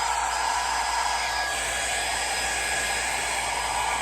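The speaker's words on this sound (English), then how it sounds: "Hair dryer is your friend when it comes to acrylic paint." Hair dryer blowing steadily to dry acrylic paint on an M422 Mighty Mite model, a close, loud, unbroken airy roar with a low motor hum underneath.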